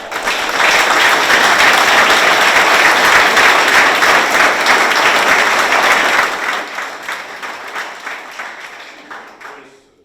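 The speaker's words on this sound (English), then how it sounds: "I think that they deserve a profound round of applause" Sustained applause from a graduation ceremony audience honouring Chris Bolzan and the GMGI team, steady and full for about six seconds, then thinning into scattered claps as it dies away.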